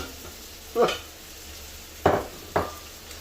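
Beef hits a hot pan for bolognese, giving a steady low sizzle broken by three scraping stirs or tosses, each a short loud burst.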